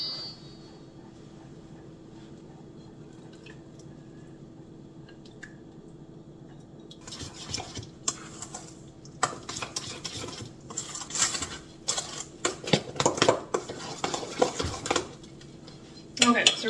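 A spoon stirs wet, grain-free vegan apple bread batter in a bowl, with scraping, clinking and squishy sloshing that grows busier after a quiet start; no talk over it.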